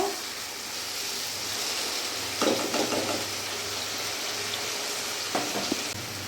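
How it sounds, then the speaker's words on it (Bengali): Meat fries and is stirred in a pan, a steady close sizzle broken by two brief bursts of scraping and clatter from the stirring, with no talk. "আমি কিছুক্ষণ নাড়াচাড়া দিয়ে একটু ভেজে নিয়েছি"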